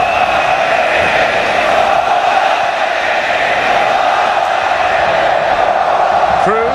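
A massive crowd at Giants Stadium fills the air with a constant, dense roar during a USA versus Argentina soccer friendly, with no single voice standing out.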